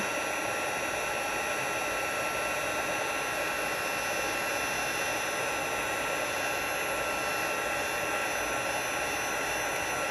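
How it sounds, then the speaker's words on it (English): Heat gun blowing a steady, loud hot-air roar over embossing powder on a handmade card, a continuous unbroken whoosh for the whole stretch with no talk. "I'm just going to heat emboss this, which I love doing."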